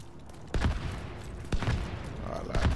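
Fireworks going off in The Division 2 near a Coney Island baseball field: three sharp bursts about a second apart, each a crackling blast trailing into a fizzing tail, moderately loud with faint voices around.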